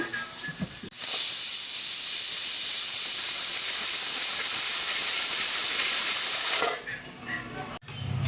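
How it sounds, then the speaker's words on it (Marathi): A pressure cooker cooking urad dal lets out a loud, steady steam whistle and hiss lasting about six seconds, cutting off sharply near the end with quieter kitchen sounds on either side. "करून दोन शिट्ट्या कुकरच्या होऊ देऊ"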